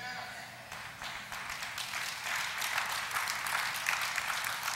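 An audience at a motivational sermon breaks into applause, a dense wash of clapping that builds and holds steady, heard from within the crowd.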